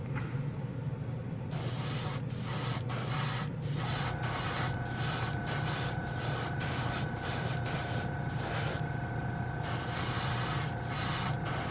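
Dspiae chrome paint hissing from a spray can onto a painted model part in repeated short bursts, close and steady with brief gaps between passes, no voices.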